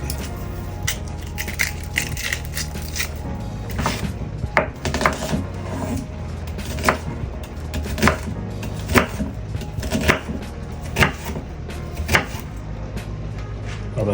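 A yellow onion being chopped for collard greens: repeated knife strikes against a cutting board, irregular but steady sharp taps over about fourteen seconds, close and fairly loud with a low background hum.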